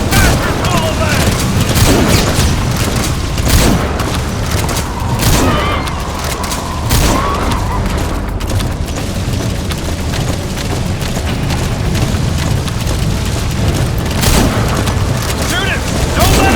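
Dense, continuous gunfire and booming blasts from the video game Metal Gear Solid 5 fill the whole stretch, loud and steady, with players shouting excitedly over the shooting.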